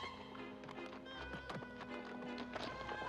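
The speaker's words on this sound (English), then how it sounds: "So that's his horse, Bertram." Horse hooves clip-clop in a 1984 Dragon's Lair animated show, a steady run of hoofbeats mixed with a whinny and busy cartoon music and effects, fairly loud and continuous.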